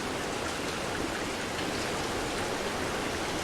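Water rushing and splashing into a leaking boat in the video game Eastshade, a steady, dense hiss like heavy rain or a stream, loud and continuous with no voices.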